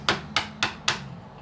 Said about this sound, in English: Fretting hammer. Just going to give us a little tap